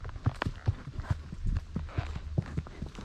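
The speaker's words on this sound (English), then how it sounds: "It is a pleasure and a privilege to ride this horse." A horse walks under its rider, its hooves clip-clopping in a steady, moderately close rhythm of distinct knocks against faint background noise.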